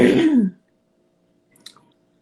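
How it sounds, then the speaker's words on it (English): A single throat clearing, close and fairly loud, lasting about half a second, followed by silence and a faint brief rustle. "might be clearing my throat a lot today"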